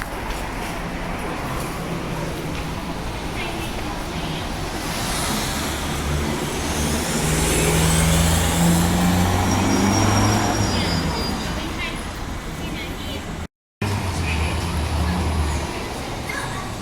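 City bus pulling into a stand on Wellington Street, a steady low engine rumble with road noise that swells as it draws near and then eases off, someone talking over it.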